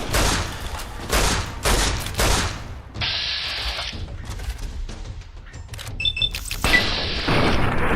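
A .44 revolver fires in Fallout New Vegas as a burst of loud, booming shots, followed by quieter thuds and clatter, with another heavy burst near the end.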